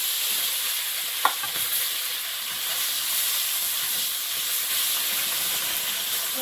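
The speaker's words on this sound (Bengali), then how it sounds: "কড়াইয়ে তেল দিয়ে দেব মাছ ভাজবো" Fish, already rubbed with salt and turmeric, fries in hot oil in a wok with a continuous close sizzle and hiss, one brief sharp clatter near the start.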